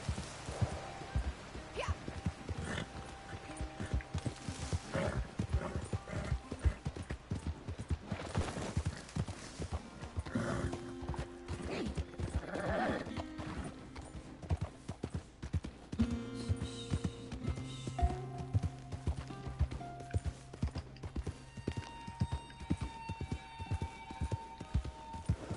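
Horse hooves clopping in a rhythmic gallop in the video game Red Dead, with occasional whinnies and bursts of gunfire over game music, fairly quiet throughout.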